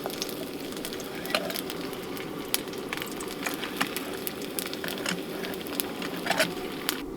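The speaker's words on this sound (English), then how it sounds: "This is on a low heat, but it's frying up quite nice" Food frying on low heat in a titanium frying pan, a steady close sizzle with scattered small pops and crackles throughout, moderately quiet and alone.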